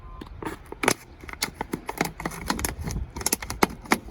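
Rapid series of crisp snipping and crunching clicks, irregular and close up, as scissors chop through a stiff plastic bottle to make a face shield.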